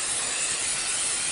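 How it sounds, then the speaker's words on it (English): Crafter's Companion Stick and Stay spray adhesive sprays in a steady, close, loud aerosol hiss that runs unbroken with no talk. "I'm going to spray the adhesive on the back of this"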